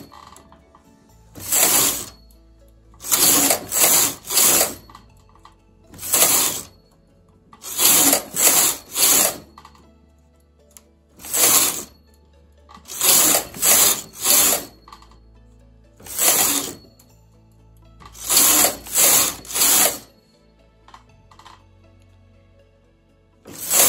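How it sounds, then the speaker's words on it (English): Knitting machine carriage pushes the needles out in repeated rhythmic bursts, loud close mechanical rattling and clacking that comes in groups of two to four strokes separated by short pauses, with no talking. "Pushing the needles out."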